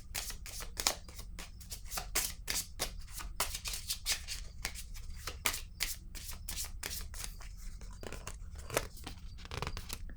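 Tarot cards shuffled and drawn by hand, a steady run of close, crisp papery riffles and snaps repeating throughout with no talking.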